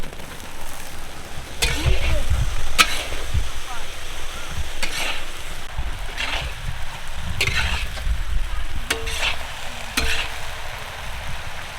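A large batch of raw jackfruit tipped into a hot pot sizzles loudly and steadily, with a few sharp clanks of the utensil over the continuous frying hiss.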